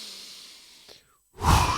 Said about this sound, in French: Prenez une grande inspiration